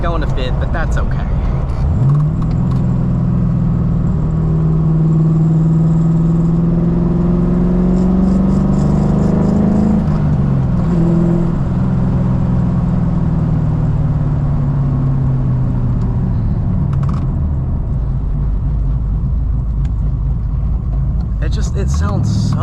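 Cammed 450 hp Infiniti G35 engine heard from inside while driving, a loud, deep, lumpy idle-to-rev drone rising and falling in pitch through gear pulls, with a voice briefly under it.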